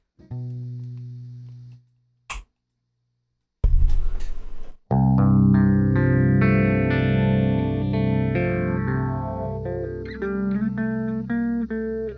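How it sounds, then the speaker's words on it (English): Clean electric guitar notes ring out, then a strummed chord sustains with a slow, gentle sweeping swirl from an MXR Phase 90 phaser pedal on its slowest setting; a few sharp clicks and brief gaps occur early. "let's turn on the phaser on the lowest setting"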